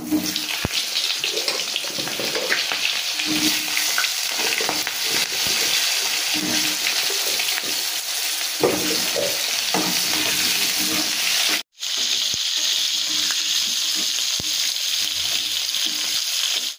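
Potatoes frying in hot oil in a pan, a loud continuous sizzle with scraping and stirring noises, broken by a brief pause near the end before the frying resumes.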